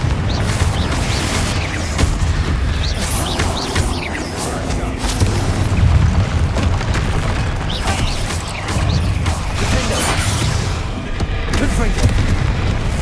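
Repeated Confringo fire blast spells in the Hogwarts Legacy video game boom and crash continuously in a dense, loud battle mix, with impacts and clatter layered over a constant low rumble.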